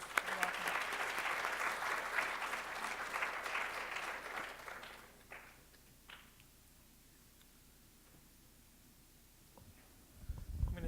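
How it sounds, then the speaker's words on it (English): A round of applause for a guest speaker in a university finance class, a steady wash of many hands for about five seconds that tapers off into a quiet room with a few scattered sounds. "let's give him a round of applause"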